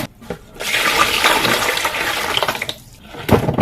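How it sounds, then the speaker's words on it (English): Water pours steadily into a basin of okra, a close rushing splash that swells for a few seconds before easing off. "So right here I have a basin. I'm going to go in with some water"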